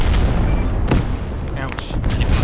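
Grenade launcher rounds exploding in the military shooter game Arma 3, a sharp boom with a brief burst near the middle and fainter blasts around it, heard under voice chat.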